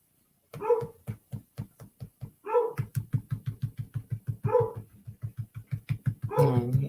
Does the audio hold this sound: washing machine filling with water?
no